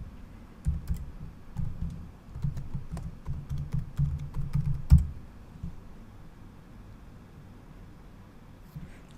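Fingers type on a computer keyboard at close range to log in, a quick run of soft key clicks with a few sharper taps, ending with one firm keystroke before the room falls quiet.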